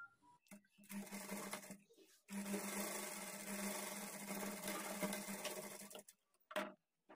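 A sewing machine stitches an armhole dart on a blouse with a 1/4 inch margin, running in a steady close whirring burst of several seconds after brief starts, then stopping.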